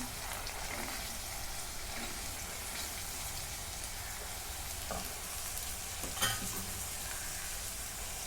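Carrot, capsicum, beans, field beans and moth beans sauté with spices in a pot, a constant soft hiss and crackle with faint stirring knocks and one brief clink, no talking.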